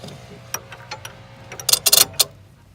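A Q-Straint wheelchair tie-down strap in a van retracts and tightens itself, with a few scattered mechanical ticks followed by a quick, close burst of ratcheting clicks that fades away.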